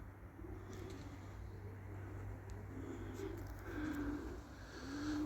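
Pigeons coo in a rooftop loft, soft repeated throaty calls recurring at intervals over a low steady hum, faint and somewhat distant.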